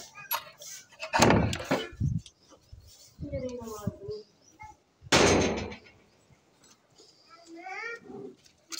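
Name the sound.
rattling a latched door to open it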